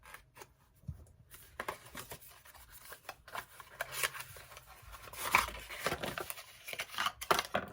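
Small sticker being peeled and rubbed off face cream packaging, faint scattered scratchy rustles and crinkles that come close and quiet, with no talking.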